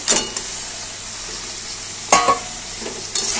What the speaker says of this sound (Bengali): ভালো করে নেড়ে চেড়ে কষাতে থাকবো